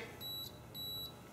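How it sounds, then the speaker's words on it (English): An ignition coil tester used in converting a Stihl from points and condenser to electronic ignition gives two short, high electronic beeps, evenly spaced and faint, with no talking. "See? Beep, beep, beep, beep, every time."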